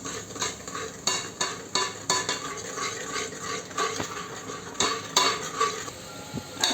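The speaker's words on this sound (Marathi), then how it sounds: "आता याला तेल सुटेपर्यंत व्यवस्थित परतून घ्यायचं." Whisked yogurt sautéing in hot oil inside a pressure cooker for a vegetable paneer biryani, with steady sizzling under repeated scraping and clinking of a metal spoon against the pot.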